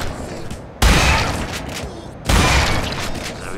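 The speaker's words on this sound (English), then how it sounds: "Every last one of you gonna get shot with my shotgun." Two loud shotgun blasts from The Darkness II, each a sharp broadband boom with a lingering tail, about one and a half seconds apart, fired at pigeons.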